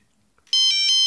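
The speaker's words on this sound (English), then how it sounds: "Alert tones, ringtones." A Trium MT-140 Astral mobile phone from 1999 starts a bright electronic ringtone, loud and close, after a near-silent start, with repeating synthetic tones pulsing steadily.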